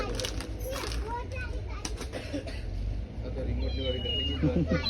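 A toy cat meows, its short, tonal cries rising over constant chatter from children and adults in a busy room.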